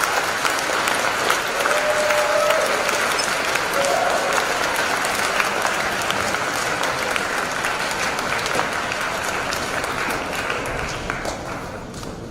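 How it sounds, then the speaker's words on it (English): A large crowd at a high school convocation and awards ceremony gives sustained, even applause for student leaders, a broad wash of clapping that fades slightly toward the end. "give these leaders a warm round of applause for their hard work this year"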